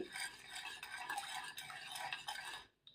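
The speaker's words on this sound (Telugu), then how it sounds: "ఇలా కార్న్‌ఫ్లోర్ కలిసే వరకు కలుపుకోవాలండి" Cornflour mixture is worked together by hand in a bowl for a milk pudding cake, giving soft continuous squishing and rubbing sounds close by. The sound cuts off abruptly near the end.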